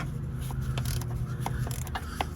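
A wrench breaks loose and turns a bolt on the starter of a Dodge Journey with the 3.6L V6, giving a few close, brief metallic clicks and creaks over a steady low hum, with no talking.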